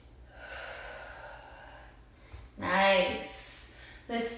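Audible breaths during a yoga eagle pose, a long soft inhale followed by a stronger, sharper exhale and a brief final breath, close and fairly quiet.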